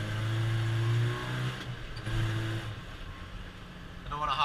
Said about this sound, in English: So I'm gonna downshift into second.